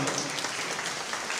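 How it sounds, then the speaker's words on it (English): An audience claps in steady, dense applause after the national anthem at the Miss Independence Palau 2020 pageant, a continuous wash of hands that holds level for the whole stretch with no voices over it. "let's give them a big round of applause"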